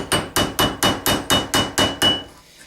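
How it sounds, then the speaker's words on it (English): A hammer's peen end strikes rivets on a knife handle against a hard metal surface, giving nine evenly spaced, sharp ringing blows, close and loud, with no talking. "Take the peen end of your hammer and actually go ahead"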